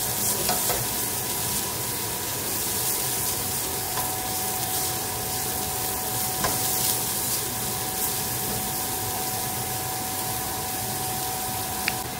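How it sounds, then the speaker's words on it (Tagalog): Garlic and onion sauté in oil left from frying eggplant, giving a steady, even sizzle throughout with a faint tonal hum and a few soft spoon taps. "Diyan natin igisa yung bawang at saka sibuyas."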